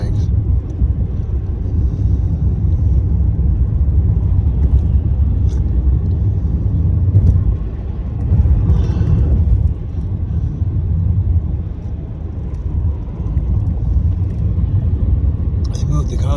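A car drives along an LA road, a steady low rumble from inside the vehicle that dips briefly and returns, with a voice speaking at times over it.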